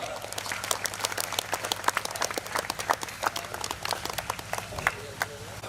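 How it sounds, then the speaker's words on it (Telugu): A church gathering audience claps steadily to welcome members of a Bible Trust Ministry from Hyderabad, with dense, continuous applause filling the room and a low hum underneath. "అందరూ కూడా చప్పట్లు కొడుతూ ప్రేమపూర్వకంగా ఆహ్వానిద్దాం."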